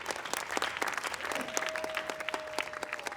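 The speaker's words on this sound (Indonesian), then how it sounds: "Boleh tepuk tangan sekali lagi untuk Hit." Studio audience applause on an Indonesian comedy contest show, steady crowded clapping throughout with a faint sustained tone running beneath.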